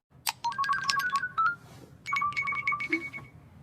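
A phone ringtone sounding unanswered, two bursts of bright electronic ringing melody separated by a short pause, clear and close with no voices.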